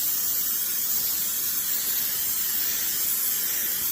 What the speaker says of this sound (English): I'm just going to hit it with some olive oil.